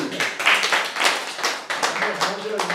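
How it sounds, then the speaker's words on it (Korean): A small group claps as a round of applause at a classroom lecture, uneven hand claps in loose bursts with speech mixed in. "박수 한번"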